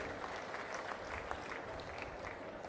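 An audience at a public event with the Chief Minister claps in sustained, dense applause, a steady wash of many hands at even loudness throughout, with no distinct voices standing out.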